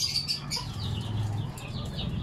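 Chicken raised on oregano juice from a day old, its clucking and faint calls carrying over low steady background noise, fairly close and continuous.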